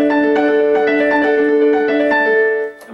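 A quick run of piano chords struck in a fast, syncopated rhythm, ringing close and steady before cutting off at the end.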